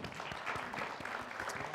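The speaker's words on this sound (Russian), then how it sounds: "Ваши аплодисменты." An audience at a talk show claps steadily, a dense, even wash of applause in a hall after a speaker is introduced.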